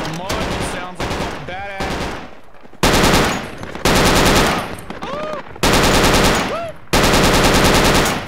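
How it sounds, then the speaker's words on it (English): Machine gun fire in the tactical shooter game Project Reality, on the Kokan map in an Afghan insurgency battle: loud, sustained automatic bursts in several long volleys separated by short gaps, with radio-style voices talking between them. "I didn't win against a machine gun."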